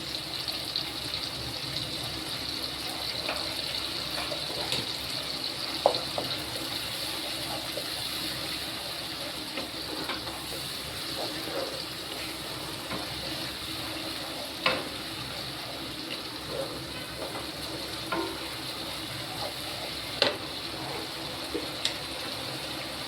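Green chilies sizzling in hot oil with ginger-cumin paste, a continuous close frying hiss dotted with occasional sharp stirring clicks and pops.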